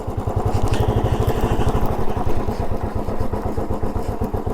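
Motorcycle riding a mountain road to Bhadraj near Mussoorie, with a steady rapid engine thrum close by and some rattling clatter over the whole stretch.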